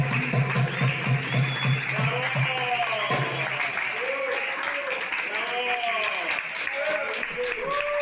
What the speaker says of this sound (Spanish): la ovación indica